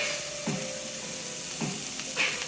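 Vegan casserole food sizzles and crackles steadily in a pot, with a few soft clunks of stirring at intervals.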